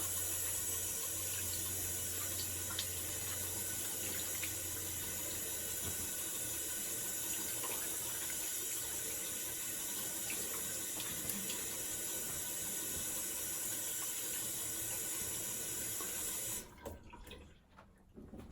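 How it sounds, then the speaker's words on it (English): Cold water rinse running steadily from a tap into a sink while a shaving brush is cleaned, a continuous close splash that holds evenly for most of the clip before cutting off near the end. "Alright, there's that cold water rinse."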